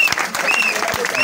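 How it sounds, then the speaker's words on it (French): A crowd applauds and cheers a head of state, a steady dense clapping with voices mixed through it, held at an even level throughout. "Acclamé pour chef de l'État."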